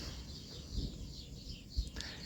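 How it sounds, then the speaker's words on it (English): Birds chirp and twitter faintly outdoors on a snowy March day, with thin high calls spread over a quiet, hushed background and a few soft low bumps. "But the birds are singing because they're bitching about it"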